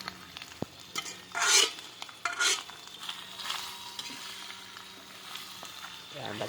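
Pork innards (laman loob) are stirred in a cooking pan with scraping utensil strokes and bursts of sizzling frying, some louder stirs standing out, and a voice speaking briefly near the end.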